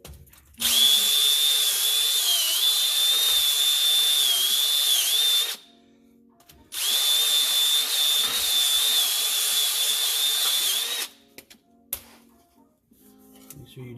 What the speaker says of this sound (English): make sure you just kind of sand her out.